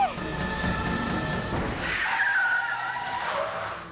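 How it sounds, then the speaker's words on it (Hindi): A car skids to a sudden stop in a tense Hindi TV thriller scene, a loud tire screech and sliding squeal lasting several seconds at close range, with no talk over it. "गाड़ी क्यों रोक दी?"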